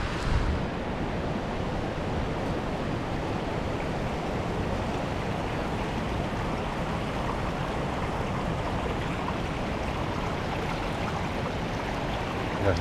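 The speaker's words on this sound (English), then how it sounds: "I'm gonna wade through water." Water rushes in a steady, dense wash near small falls along a stream on Rock Island, loud and close with some wind noise, while a person wades through in cold water, no clear voices.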